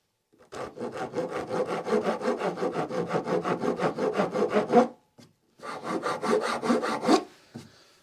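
A wooden sword blade is shaped with steady, rhythmic rasping strokes, fast back-and-forth scraping that runs for several seconds, pauses briefly, then resumes close and clear.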